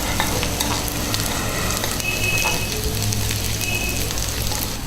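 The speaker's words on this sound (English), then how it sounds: "The onion is turning golden brown now." Chopped onion frying in hot oil in a home kitchen pan, turning golden brown, giving a steady, close, continuous sizzle with faint stirring scrapes and no talking.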